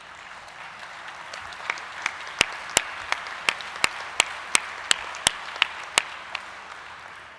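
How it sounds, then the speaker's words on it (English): An audience at a union leaders' talk gives a thin, scattered round of applause: a dozen or so sharp, separate claps ring out over a soft hall hum, rising slightly in the middle and then fading. "Please applaud."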